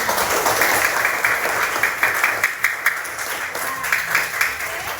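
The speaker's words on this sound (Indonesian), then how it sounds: "Tepuk tangan untuk temannya." A classroom of students claps for a classmate in a steady, continuous patter that lasts throughout, turning slightly more uneven near the end.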